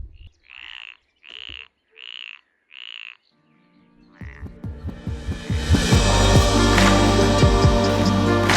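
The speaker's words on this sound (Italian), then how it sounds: "Ci sono le rane. Senti quante rane." Frogs croak near the Blue Eye spring in Albania: four loud, evenly spaced croaks close by, then a rising, rushing roar of mixed noise that builds and takes over.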